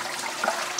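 Water rinsing stale water out of the glass base jar of an Aladin shisha pipe, a short, soft gurgling splash of flowing liquid, faint and brief with no voices.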